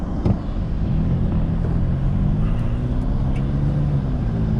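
A car drives along a rough road in St. John, straight through potholes without swerving, with steady engine and road rumble heard from inside and a few faint bumps and knocks, no talk.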